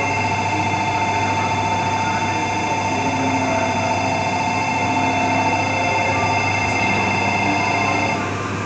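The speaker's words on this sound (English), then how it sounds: "Empty train, departing platform 22." An empty Shinkansen, the Kodama 365, pulls out of platform 22 bound for the yard, giving a steady, loud rumbling hum with sustained tonal whine throughout.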